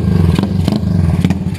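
A Bajaj 160cc motorcycle built with a 59mm Mio head and block revs loudly up close, its engine note rising and falling in quick, rough pulses with some mechanical clatter.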